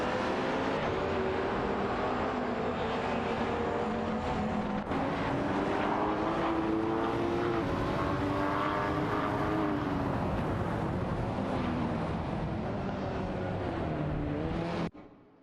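Race cars in an AI racing video game, including an Aston Martin and a Ferrari, roar continuously with loud layered engine tones that rise and fall through gear changes for about fifteen seconds before cutting off abruptly.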